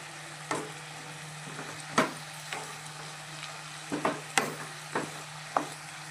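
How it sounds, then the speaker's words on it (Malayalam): A spoon scrapes and knocks through ginger paste and spices in a pan for prawn curry with drumsticks, in a few sharp, irregular strokes over a low, steady stove hum. Close and fairly quiet, with no talking. "ഇഞ്ചി പേസ്റ്റ് ഇട്ട് എല്ലാം കൂടിയിട്ട് നന്നായി ഒന്ന് ഇളക്കി"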